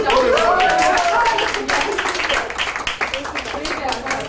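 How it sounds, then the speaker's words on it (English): An audience at an Earth Hour event claps loudly and raggedly, the applause thinning out over a few seconds while a voice speaks over the start. "Big round of applause to Ritu Padna and Ritu"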